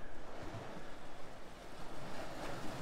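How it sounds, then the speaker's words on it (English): Sea waves break on a shore at a sea fishing spot, a steady wash of surf with soft rolling swells and some wind, fairly faint and continuous with no talking. "the waves are hitting down the bottom there and oxygenating that water"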